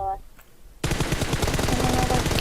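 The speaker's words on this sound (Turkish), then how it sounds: "merdivene sıkıyorum" Sustained automatic gunfire in PUBG Mobile, a dense rapid burst of shots that breaks in suddenly after a brief quieter moment and keeps going loud and close to the end.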